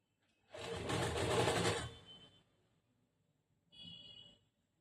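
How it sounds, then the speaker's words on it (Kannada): A sewing machine stitching a princess-cut blouse runs in one steady whirring burst of about a second and a half, then pauses and gives a second, shorter run, close and clear in a quiet room. "ಇಲ್ಲಿ ಒಂದ್ ಸ್ವಲ್ಪ ಸ್ಲೋ ಆಗುತ್ತೆ ಸ್ಟಿಚ್ ಮಾಡೋದು"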